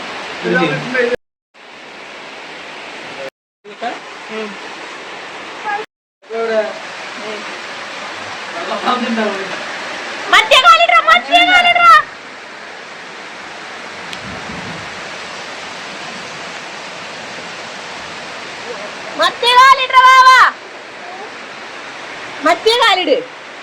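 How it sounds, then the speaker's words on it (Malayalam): Heavy rain pours down in a steady, loud, broadband hiss that fills the whole stretch, broken by a few brief dropouts, with voices talking now and then over it. "മഴ മഴ"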